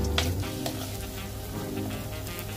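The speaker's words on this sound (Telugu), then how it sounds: "ఉల్లిపాయలు వేగిపోతున్నాయి చక్కగా" Onions fry in a pan for a prawn gongura curry, a close, steady sizzle and crackle with light stirring scrapes and no talking.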